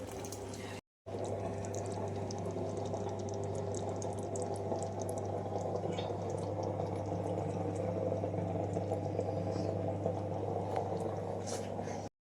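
Saag greens simmering in a pot in a village kitchen, a soft, continuous bubbling and hissing heard up close under a steady low hum, cut by a brief gap near the start.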